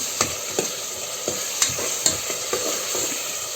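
Ground spice paste stirred into onions frying in a pan for mushroom pulao, with a steady hot sizzle broken by regular scraping stirs, close and alone without talk.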